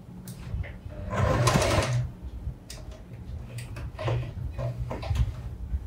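A sewing machine stitches the front slit of a churidar with a close, steady mechanical whir and rhythmic ticking. The sound swells and fades as the stitching continues throughout.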